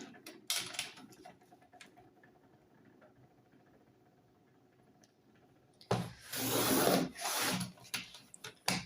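Paper being trimmed with scissors or a blade while making a monthly budget cash-envelope holder, soft scraping and rustling close by, faint at first and then a louder burst of crinkling and cutting.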